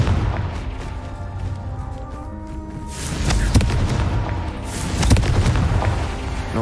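A Confringo fire spell from the video game Hogwarts Legacy bursts in two heavy booming explosions a couple of seconds apart, each a sharp blast trailing into rumble beneath a game soundtrack.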